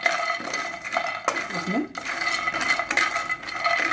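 A spoon scrapes and clinks against a pan as dried fruits are stirred and roasted, giving steady scraping and light metallic taps, with a brief spoken word partway through.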